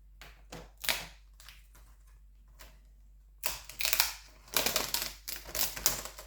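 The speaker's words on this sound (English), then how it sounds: "You'll also find some adhesive on the rear of the laptop bezel. You can just gently pry it away." Adhesive-backed plastic bezel being pried off a Dell 5300 laptop, heard as a few sharp, close clicks and snaps at first, then a denser run of crackling, scraping pops as the glue lets go.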